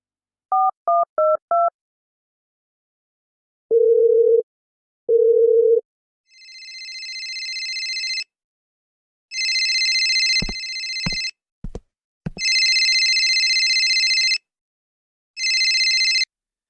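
A phone call is placed: a few quick keypad beeps, two longer dial tones, then a run of loud electronic ring bursts cut by sharp clicks, with no talk over it.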